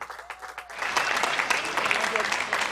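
Applause for a graduating class of 2021 at a school graduation ceremony, a crowd clapping steadily and loudly after a softer opening of scattered claps.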